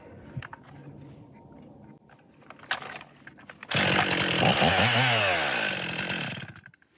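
A Stihl MS241 chainsaw starts up and runs loud and close for about three seconds to run in a new chain, its engine note rising and falling, after a quieter stretch of low handling noise.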